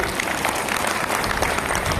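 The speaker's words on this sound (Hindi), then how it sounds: "कम से कम एक बार अपने लिए ताली बजा लें" Teachers at a district-level cluster workshop in Agra applaud together in a dense, loud burst of clapping that holds steady throughout.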